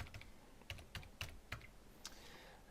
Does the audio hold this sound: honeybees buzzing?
no